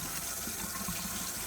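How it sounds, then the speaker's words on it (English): Tap water runs steadily while fresh broccoli is rinsed under it, a soft continuous splashing and hiss that is fairly quiet and uninterrupted, with no talking. "Then rinse it thoroughly under running water."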